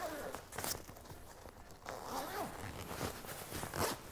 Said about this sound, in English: it has a completely detachable day sack, which can be removed by the zip on the side.